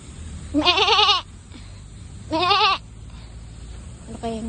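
A goat bleats twice in long wavering cries outdoors on a walk, with a shorter third bleat starting at the end over a faint background hum.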